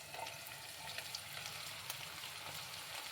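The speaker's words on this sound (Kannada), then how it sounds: "ಅದು ಎಣ್ಣೆಲ್ಲೇ ಫ್ರೈ ಆದಾಗ ಖಾರ ಚೆನ್ನಾಗಿ ಬಿಟ್ಕೊಳ್ಳುತ್ತೆ" Green chillies frying in hot oil in a pan for mango chitranna: a steady, close crackling sizzle with scattered pops, even and unbroken with no talking.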